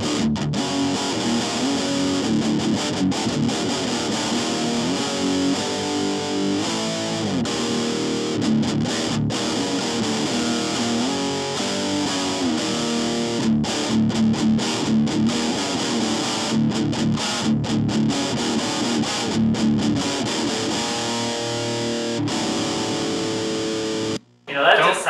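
Electric guitar played through a distortion pedal into a Fender Frontman amp, a loud, continuous, heavily saturated tone with chord changes throughout, dropping out briefly near the end.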